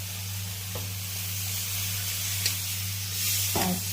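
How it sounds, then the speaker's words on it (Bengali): Water poured into a hot pan of fish jhal gives a steady soft sizzle and hiss under a low hum, with a few faint clicks and a brief burst of spattering near the end. "এবারে আমি একটু জল ঢেলে দেবো"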